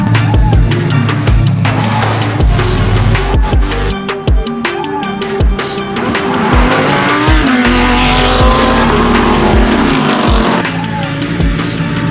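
A race car at Queensland Raceway roars loud and close for twelve seconds, engine revving hard through gear changes with tyre squeal and skidding mixed into the sustained motor noise.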